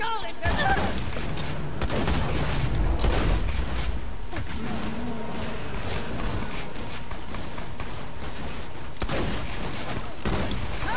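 Gunfire from the video game Borderlands 2 crackles in dense bursts amid a busy combat mix, loud and close throughout, with occasional heavier booms.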